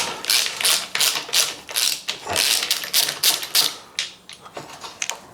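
Sharp mechanical clicks and ratcheting taps come in quick, irregular bursts while the motor is being unbolted and pulled from an Orbea Wild e-bike, close and crisp with short gaps between clusters.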